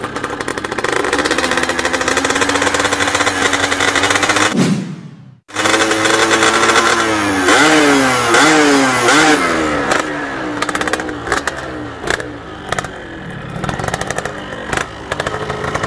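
A tuned racing motorcycle engine revs hard and loud close by, climbing through repeated rising and falling pitch sweeps, briefly cutting out near the middle, then roaring back with more throttle blips.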